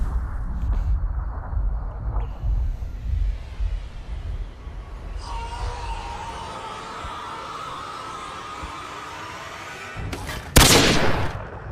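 Bursts of gunfire in Fallout: New Vegas, with scattered rapid shots early on, a quieter stretch, then a sharp loud blast near the end.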